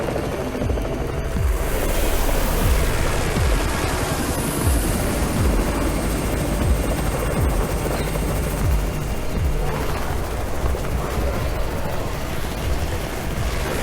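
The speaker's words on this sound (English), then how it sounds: "It's the Raven's chopper!" A helicopter's heavy rotor thrum arrives in the zombie survival game Undawn, a loud continuous roar with low rumbling and scattered impacts filling the whole stretch, no voices over it.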